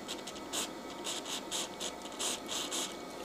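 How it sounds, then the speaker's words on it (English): An airbrush needle is rubbed through a microfiber cloth dampened with cleaner, making a series of quick, soft scratchy swipes in an uneven rhythm, close and fairly quiet. "and then just rub your needle through, and that's taking the paint straight off."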